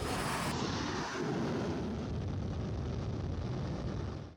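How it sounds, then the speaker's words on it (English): Jet aircraft roar steadily on the flight deck of the George H.W. Bush aircraft carrier at sea, a loud continuous engine rush with no talk. "You can also see the planes that are landing on the flight deck."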